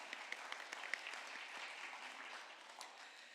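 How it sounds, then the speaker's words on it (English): A crowd claps in steady, dense applause, fairly soft and slightly distant, with no voices over it. "if we can give you a round of applause"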